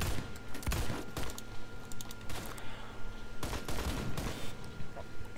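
Rapid gunfire from the video game Phantom Forces comes in loud, dense volleys of sharp bursts, with near-continuous shots and brief pauses between strings of fire.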